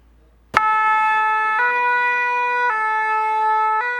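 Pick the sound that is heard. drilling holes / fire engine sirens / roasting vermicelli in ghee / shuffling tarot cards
fire engine sirens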